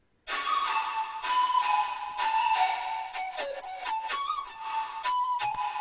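A flute plays a sustained, breathy melody drenched in reverb that is sidechained back on itself, so each dry phrase stays clear and a wet tail swells in the gaps between notes, loud and close with no talk.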